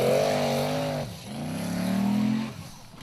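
A formula offroad race car's engine revs hard in Akranes, Iceland, a loud close roar that dips sharply, then climbs again before falling away, with no talking.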